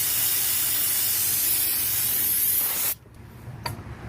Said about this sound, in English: We're just gonna brake clean this